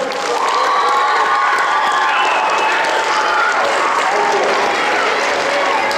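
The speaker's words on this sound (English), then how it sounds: "Let's have a big round of applause for Mr. James Warren." A school auditorium crowd at a D.A.R.E. graduation in Tamaqua bursts into loud, continuous applause mixed with cheering and children's shouts, filling the whole stretch without pause.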